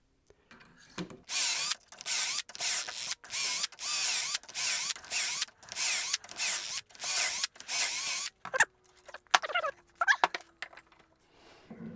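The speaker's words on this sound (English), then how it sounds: "I'm only going to drill 4 holes in here" A power drill whirs in a series of short, loud bursts while drilling four holes for a wooden sawhorse, followed by scattered clicks and rattling.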